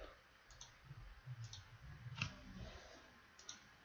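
A few sharp key presses on a computer keyboard while playing the game Dofus, each a brief click spaced irregularly over a quiet background.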